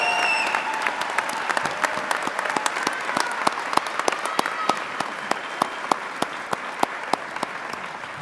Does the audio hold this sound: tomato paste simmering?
no